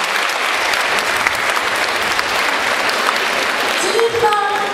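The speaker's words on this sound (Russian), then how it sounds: "ваши громкие аплодисменты" Loud, dense applause from a theatre audience at a children's choreography and song concert, a steady wash of many hands clapping, with voices and a tonal sound coming in near the end.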